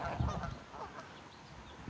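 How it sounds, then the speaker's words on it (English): A family of geese with small goslings honks softly outdoors, faint, distant honks blending into background ambience, with no clear voices. "Look at these little geeselings."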